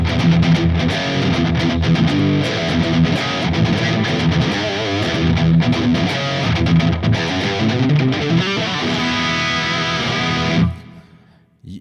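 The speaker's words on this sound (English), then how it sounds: "This is a really simple distortion sound without anything. There is only a reverb." Distorted electric guitar chords through a Mesa JPIIC-based preset ring out with a wash of plate reverb, steady and loud, then cut off near the end, leaving a brief fading tail.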